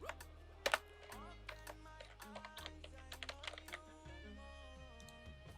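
Fingers type on a computer keyboard while working in Photoshop, producing quiet, close, rapid key clicks in short irregular runs and a couple of louder taps, with no talking.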